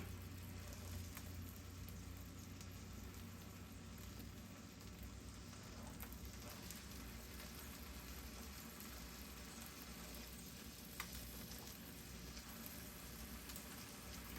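Faint, steady crackling sizzle of sausage frying in an electric skillet, continuous and even throughout with no voices.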